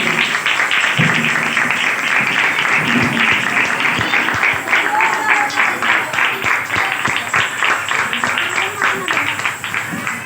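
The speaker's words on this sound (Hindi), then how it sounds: "आइए एक दूसरे के लिए जोरदार तालियां बजाएं।" Dense, sustained applause from a women's fellowship meeting at a church in Mehran Town, Karachi, filling the room at close range with steady clapping and a few voices mixed in.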